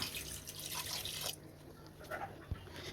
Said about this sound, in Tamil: இந்த இறச்சி வேகிறதுக்கு தேவையான அளவு தண்ணி சேர்த்துப்போம்